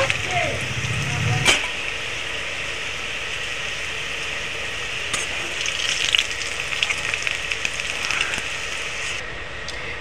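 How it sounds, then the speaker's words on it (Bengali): Taro pieces frying in hot oil, a steady close sizzle running throughout with a brief clatter near the start and faint, occasional spoon or pan sounds. "লাল লাল করে গাটি কুচুগুলো ভেজে নিয়েছি।"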